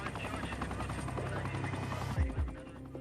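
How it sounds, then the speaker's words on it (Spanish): A helicopter's rotor blades turn steadily at a raid site and make a dense, loud, continuous roar, with a deep thump near the end and voices mixed in. "bajo las palas en marcha del helicóptero"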